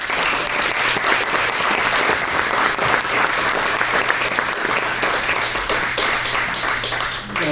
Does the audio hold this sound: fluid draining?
no